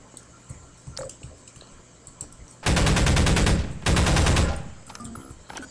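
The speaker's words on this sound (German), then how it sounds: "Ja, er schießt auf mich" Enemy automatic gunfire in Half-Life 2, two long, loud rapid-fire bursts with a brief gap between them, standing out against quieter game ambience and scattered clicks.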